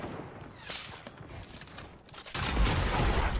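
Gunfire from a Fortnite match, with scattered shots and footsteps early, then a sudden loud burst of shotgun blasts that sustains to the end.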